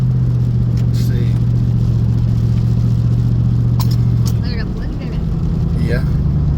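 A truck's engine drones steadily from inside the cab while driving, a loud low hum that shifts pitch partway through, with a voice talking over it.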